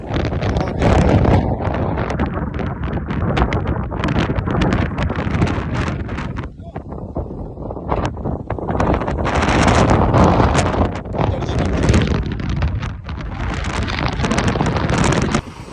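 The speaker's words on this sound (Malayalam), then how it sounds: "ഭയങ്കര കാറ്റാട്ടോ, ഇവിടെ നിൽക്കാൻ പറ്റില്ല." Hard wind on a misty Varattumedu hilltop pounds the microphone with a continuous, heavy roar and rumble, coming in pulsing gusts with a few brief dips. Voices are faint or absent.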